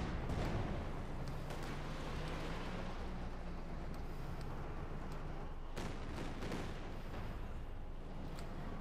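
Katyusha rocket artillery firing in Company of Heroes 2, a sustained rumbling barrage with rolling booms and sharper bursts layered over a constant low roar.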